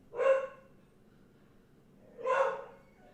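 Dog barking twice, two short separate barks about two seconds apart, moderately close in a quiet indoor room, with no talking over them.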